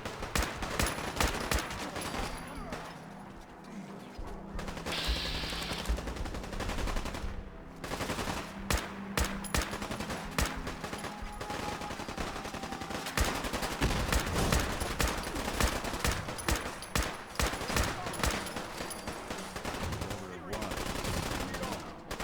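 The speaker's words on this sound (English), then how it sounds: "Okay guys, I can hear gunshots." Dense, rapid gunfire in Fallout 4 crackles throughout, bursts of automatic shots mixed with single cracks over a busy, loud backdrop.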